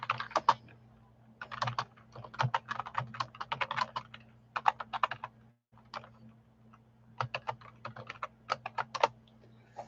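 Steady bursts of typing on a computer keyboard during a live flash auction, with rapid clustered keystrokes broken by short pauses and a constant low hum underneath, no voices.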